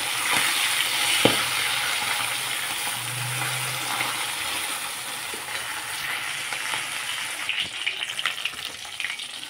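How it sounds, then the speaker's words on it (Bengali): Fish sizzling and spitting as it fries in a pan, with a steady bright hiss throughout, a couple of sharp clacks from the fish being flipped, and a brief low thump partway through; no talking. "এখন মাছগুলোকে উল্টাপাল্টা করে ভেজে নেব"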